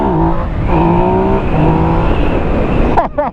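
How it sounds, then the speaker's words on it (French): A 2017 Yamaha MT-09 motorcycle engine heard up close while riding, loud and droning with rising and falling revs, plus wind rumble, ending in a sharp burst of noise. "le moteur est clairement beaucoup plus rageur et beaucoup plus puissant que ma Street Triple"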